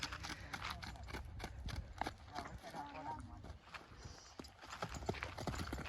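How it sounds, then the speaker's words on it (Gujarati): Kathiyawadi horse hooves clip-clop in a quick, steady rhythm during a long ride, close by, with faint voices and occasional snorts or rustles mixed in underneath. "આપણે બે ગયા ઘોડા માથે"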